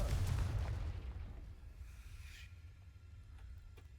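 A Confringo spell explosion in the video game Hogwarts Legacy: a loud, close blast with a heavy low boom at the start, tailing off into a rumbling decay and faint debris sounds, with no speech.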